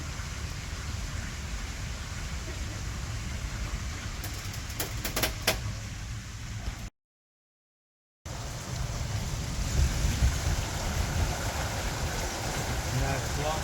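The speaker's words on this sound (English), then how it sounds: "the way the water rushes in to fill the lock" Water rushes in to fill a lock on the Trent-Severn Waterway, a steady broadband roar like heavy rain or surf, close and continuous, cut by a brief silence and then resuming a little louder, with a voice speaking over it.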